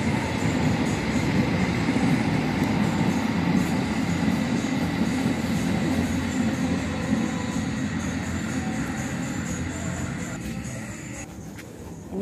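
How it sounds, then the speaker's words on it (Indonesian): A train rumbles past continuously at moderate distance, a steady roar of wheels on rails with faint clacking, fading slightly toward the end. "Ada kereta api lewat."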